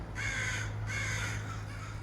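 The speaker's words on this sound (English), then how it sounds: "Crows are a constant presence in our lives." American crows caw twice in slow succession, each call a harsh drawn-out rasp, heard at moderate distance over a low steady background hum in a city setting.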